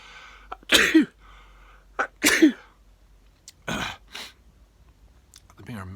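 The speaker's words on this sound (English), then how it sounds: "I think I'm going to sneeze" A close, loud sneeze bursts out and is followed by a few sharp coughs and throat-clearing sounds in a quiet room.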